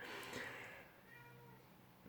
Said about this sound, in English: Cat's back.